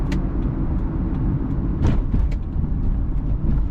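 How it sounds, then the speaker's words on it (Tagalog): Steady road traffic in Al Rasel, Doha, Qatar, with cars and buses passing nearby in a continuous broadband rumble, a few brief hisses and louder swells from passing vehicles, no talk. "Traffic sa Al Rasel."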